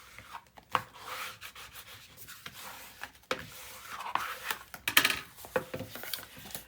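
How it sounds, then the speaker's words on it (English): Taped paper pages of a mini album being burnished, a run of soft, uneven rubbing strokes with small scrapes and taps, close and fairly quiet, with no one talking. "Now I'm going to burnish this."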